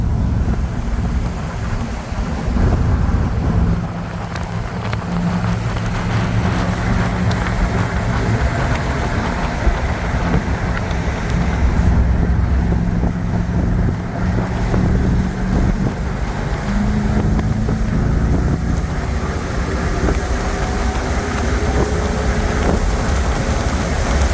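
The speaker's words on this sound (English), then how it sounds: "There's so much wind." Loud, steady wind roar buffets the microphone throughout, mixed with low engine rumble from a moving open 1975 Chevrolet Corvette C3 Stingray.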